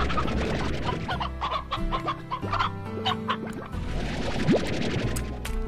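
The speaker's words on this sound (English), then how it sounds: "Oh, a couple of chickens. Just a couple." Chickens in the video game Slime Rancher cluck repeatedly in short overlapping bursts, fairly close and clear, with no one talking.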